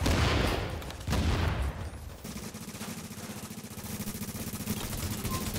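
Gunfire in the video game The Division: a dense burst of automatic shots up front, then a steady rattling stream of rapid fire continuing loudly through the rest of the stretch.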